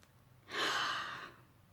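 A single deep inhalation-exhalation during a guided breathing exercise in a relaxation session, one broad breathy swell lasting under a second, close and clear, with no talking.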